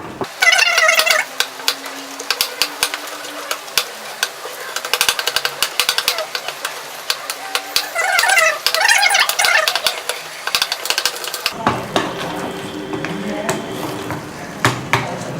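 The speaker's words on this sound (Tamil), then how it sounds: "ப்ரெட்டை வந்து பால் வந்து மீடியம் ஹீட்டில் வச்சு ஸ்லோவாக வந்து நம்ம இதை வந்து மேஷ் பண்ணிக்கிறோம்" Bread soaking in milk is mashed slowly in a pan over medium heat for bread halwa, giving a steady run of wet scraping, clinking and squelching strokes up close that quiet down near the end.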